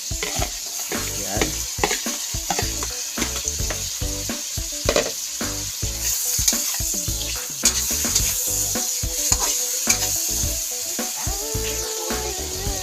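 Vegetables sautéing with shrimp in a hot pan for Filipino ginisang gulay, with a steady loud sizzle and repeated scraping stirs in an irregular rhythm.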